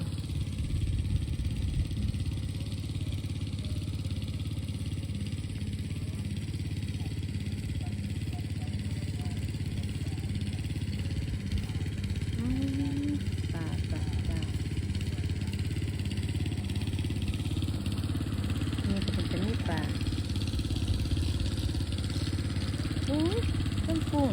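Small engine-driven pump runs steadily beside a rice-field pond while water is pumped out to catch fish, a constant mid-pitched drone that stays level throughout with faint outdoor clatter.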